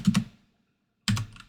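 A few quick keyboard clicks, close by, then a short pause before another small burst of keystrokes.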